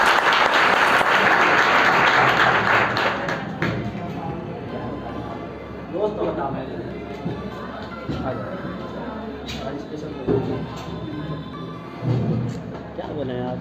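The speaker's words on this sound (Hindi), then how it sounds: "मैं स्वागत करूँगा जोरदार तालियों से सभी का।" An audience at a Teachers' Day celebration breaks into loud, dense applause that gradually thins into scattered clapping. Voices and crowd murmur continue underneath.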